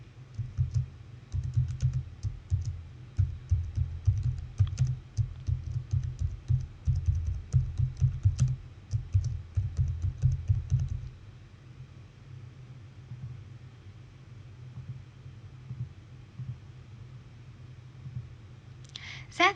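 Keys tapped on a computer keyboard while entering a chart title in Excel, a steady run of soft clicks over a low hum for about eleven seconds, then mostly quiet background.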